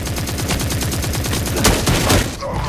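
Enemies in a video game trade gunfire in fast, rhythmic bursts of automatic shots. The firing is loud and close, with a few heavier blasts near the end, and nobody speaks.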